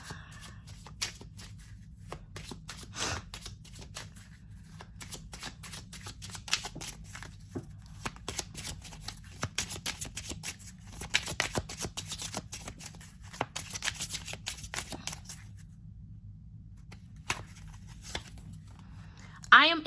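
Cards from a Find Your Calm affirmation deck being shuffled, with soft, steady riffling and shuffling rustles that carry on for a long stretch, plus a faint low background hum underneath.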